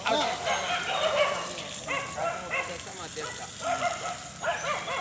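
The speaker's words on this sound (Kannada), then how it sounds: "ಈಗ ನಾಯಿಗಳೆಲ್ಲ ಕಿತ್ತಾಗ್ತಾ ಇದೆ" Several dogs bark, yip and snarl in quick bursts near a riverside temple, a loud close scuffle with whines mixed in, people talking faintly underneath.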